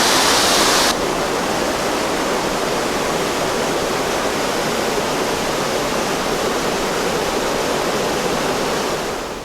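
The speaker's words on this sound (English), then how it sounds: "this is pure spring water coming out of here, flowing out of the mountains over the top of Big Sur" Spring water pours down Salmon Creek Falls in Big Sur after running off the mountains, a loud, unbroken roar of rushing water that fills the whole stretch with no voices.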